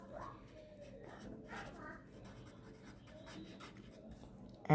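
A chapter name being handwritten during a Class 7 maths lesson on exponents and powers, heard as faint, soft scratches of writing up close in a quiet room.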